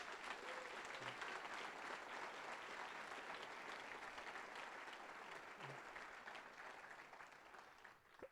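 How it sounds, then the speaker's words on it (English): Sustained audience applause fills the room at a city council swearing-in ceremony, dense steady clapping that holds for several seconds before tapering slightly toward the end. "Can we maybe give them one more round of applause?"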